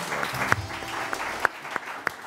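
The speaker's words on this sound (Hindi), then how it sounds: "सनम के लिए भी तालियां होनी चाहिए।" Studio audience on a Pakistani morning talk show clapping briefly, a short burst of applause with a few sharp distinct claps standing out near the end.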